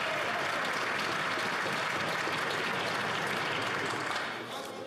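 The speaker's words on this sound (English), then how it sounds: "Well, the Prime Minister got so much applause that I'm going to let him start over." Sustained applause fills a parliamentary chamber as members clap for the Prime Minister, a dense, steady roar of many hands that carries on for several seconds before easing off slightly at the end.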